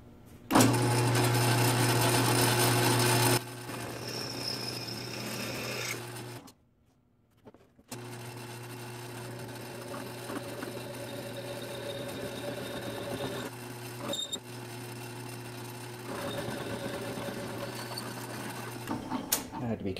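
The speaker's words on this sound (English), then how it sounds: "I had to slow down the drill press as well because of the larger drill size." Steady machine drone of a drill press slowed down for a large bit drilling steel, running for a long stretch, briefly cutting out then resuming, with occasional clicks and a faint whine over the hum.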